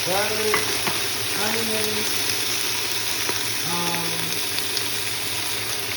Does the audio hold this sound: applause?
no